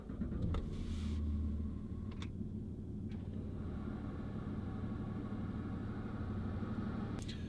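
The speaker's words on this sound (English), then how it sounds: "So press the start button and the vents open up, and also the gear selector comes out of the gear tunnel." A Jaguar XF 2.7 TD saloon starting up, with a brief whirr of the rotating vents and rising gear selector, then a low, steady diesel idle rumble with small mechanical clicks inside the cabin.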